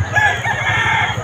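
A White Kelso gamefowl rooster crows at a pet market, its call steady and fairly close across the short moment with busy market hubbub behind it.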